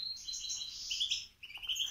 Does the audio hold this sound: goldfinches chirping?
yes